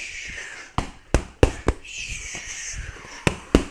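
Punches landing on focus mitts during body-shot drills, a handful of sharp, loud smacks at irregular intervals.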